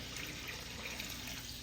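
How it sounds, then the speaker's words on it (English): Rinse water from soaked grits poured out into a kitchen sink, a steady, close splashing stream of liquid running without a break for under two seconds, with no talk over it. "Pour that right on out into the sink."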